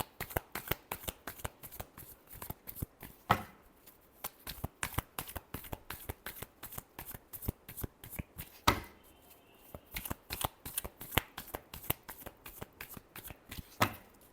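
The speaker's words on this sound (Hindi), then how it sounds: "Last shuffle." Tarot cards shuffle close by in a quick, continuous run of crisp riffling slaps, broken by a couple of brief pauses.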